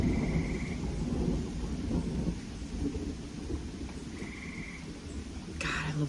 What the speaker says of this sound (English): I love a good thunderstorm, don't you?